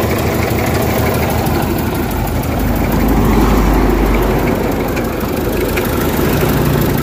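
A steady car engine that had run out of engine oil idles close by for several seconds, a constant loud rumble with a faint irregular knock and no voices.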